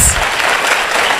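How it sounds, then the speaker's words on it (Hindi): A church congregation clapping for the Lord during a pastor's service, a dense burst of many hands applauding together, loud and close, over a short stretch. "आइए प्रभु के लिए अच्छी ताली बजाएंगे हम"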